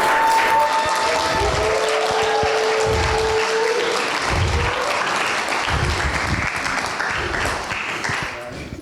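A birthday fundraiser audience applauds a panel of speakers with sustained, full clapping that carries on for several seconds, with murmurs and stray voices beneath it, then tapers slightly near the end.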